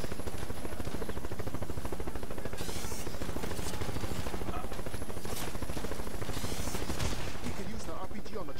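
Helicopter rotor drone and rapid bursts of gunfire from The Expendables 2 video game, a dense, continuous wash of shooting and engine noise with a voice talking over it.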